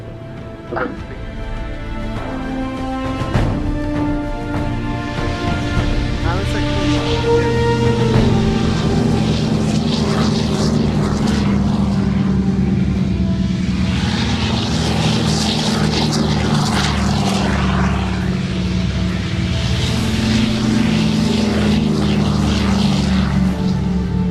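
A four-engine propeller aircraft droning loudly overhead at the Farnborough 2014 airshow, its engines building to a steady roar that holds throughout, with a dog barking briefly near the start.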